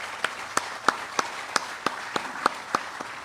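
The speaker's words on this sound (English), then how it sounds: "Let's give him a round of applause for those incredible achievements." Sparse, evenly spaced claps at a military retirement ceremony for a brigadier general, about nine sharp hand claps in a steady rhythm with no voices.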